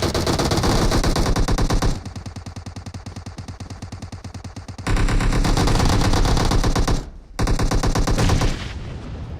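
Rapid automatic AKM fire in the mobile battle royale game PUBG Mobile, long loud sustained bursts with a brief gap, dense and continuous, no talking over it.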